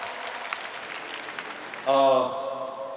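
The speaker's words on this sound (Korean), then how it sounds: "박수 부탁드리고요." Audience applause at an open talk event at the Busan International Film Festival, faint scattered clapping under a voice at first, then a louder burst of clapping near the end.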